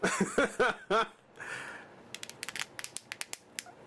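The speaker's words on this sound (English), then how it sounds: "got that rubbing plastic sound" Close plastic parts of a Resident Evil Archives Tyrant figure squeak and rub together in a few strokes, then a run of small sharp crackles and clicks.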